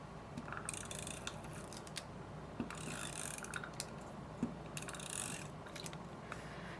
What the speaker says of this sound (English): I'm just using my tape glue runner.